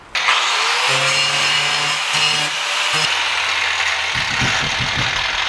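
An angle grinder grinds out a rivet on a metal bus ceiling panel, a loud, close, harsh whine and scrape with shifting pitch as the disc bites and releases, then a rougher rattling grind toward the end.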